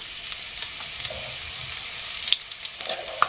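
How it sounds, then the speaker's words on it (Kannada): Mustard seeds and cumin spluttering in hot oil, a steady close crackle with sharp sporadic pops, heard alone with no talking. "ನಾನು ಇದು ಸ್ವಲ್ಪ ಚಟಪಟ ಅಂತ ಅನ್ನಕತ್ತು ಅಂದ್ರೆ ಸಾಸಿ ಜೀರಿಗೆ"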